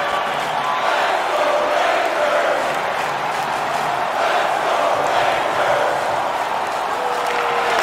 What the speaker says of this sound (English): The home crowd jumps to their feet.